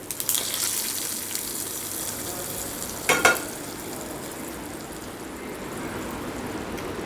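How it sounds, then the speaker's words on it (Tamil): Tomato chutney being tempered in hot oil, a steady close sizzle and fry with a brief louder crackling burst midway, no voices. "இப்போ சட்னியை தாளிச்சுக்கலாம்."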